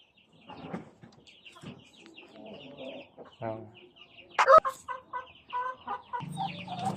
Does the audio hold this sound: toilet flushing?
no